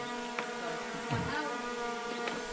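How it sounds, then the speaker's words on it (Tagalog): A low buzz of a large bee drones steadily near the listener, rising and swelling briefly as it passes close, with faint outdoor background. "Kalaking bubuyog."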